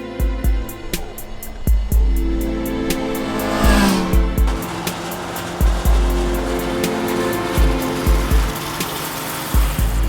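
Honda CBR650R sport motorcycle being ridden on the road, its engine droning loud and steady with rising and falling revs and sharp gear-change blips throughout.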